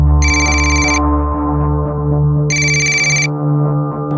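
Telephone ringtone from a crime drama episode, two bright electronic ring bursts separated by a pause, loud over a steady background music bed.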